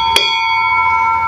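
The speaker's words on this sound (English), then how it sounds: "You can note here there's the ship's bell" The ship's bell aboard the historical vessel Wyuna is struck once, a sharp clang followed by a clear, sustained metallic ring that slowly decays across the rest of the moment.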